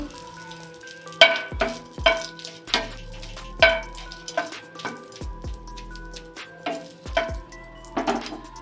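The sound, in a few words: frying three dried red chillies in hot mustard oil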